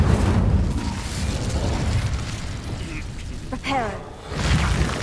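Incendio fire spell cast in the Hogwarts Legacy video game, a loud whooshing burst of flame and rumble amid dense game effects, with sweeping magical tones partway through and a voice speaking over it.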